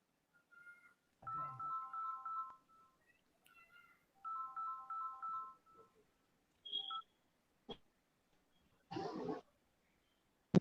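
A phone ringtone plays in short bursts of electronic tones, separated by pauses and a few scattered clicks and a brief noisy rustle.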